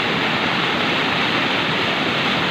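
A river swollen by heavy rain in the hills of Gulmi roars with a steady, dense wash of rushing water that fills the whole clip at close range, with no voices.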